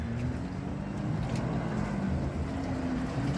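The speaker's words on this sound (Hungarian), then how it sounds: "És itt mindenféle érdekes vízi forgalom van közben." Boat engines hum steadily on the Danube river at sunset, a continuous low drone with water and wind noise, moderately loud and without speech.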